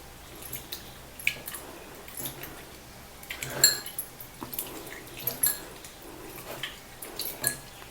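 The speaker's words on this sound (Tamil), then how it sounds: "தக்காளியை வந்து பார்த்தீங்கன்னா இந்த மாதிரி கையிலேயே நீங்கள் நசுக்கிக்கோங்க" Ripe tomatoes squeezed and crushed by hand in a bowl with a little water, giving soft wet squishes and light clinks in an uneven rhythm, close up and fairly quiet.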